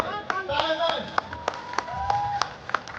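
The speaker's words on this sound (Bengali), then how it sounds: "করতালি" Rhythmic, fairly sparse hand claps from an audience cheering a man husking a coconut with his teeth at a performance in Kailashahar, Unakoti. The claps are sharp and evenly paced, with a voice and a tonal background underneath.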